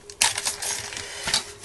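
An assortment of small metal charms handled close by, giving bright jingling and clinking with a couple of sharper clatters over less than two seconds.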